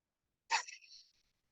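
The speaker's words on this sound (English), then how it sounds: "I apologize if you hear some barking in the background" A dog gives a single short, faint bark in the distance, after a quiet stretch of silence.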